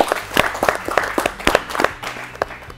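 Sparse, uneven clapping from a small audience at a school quiz show, individual claps close and distinct rather than a full ovation.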